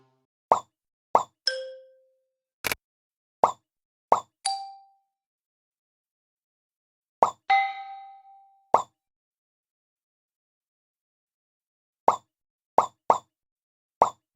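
Bright plops and dings from the Sounda-pa-looza in The Cat in the Hat game, short percussive taps in irregular bursts with some ringing tones, separated by silences.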